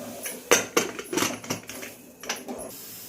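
A few sharp metallic clanks and clatters in quick succession as a lid is fitted and locked onto a pressure cooker holding chicken curry, close by.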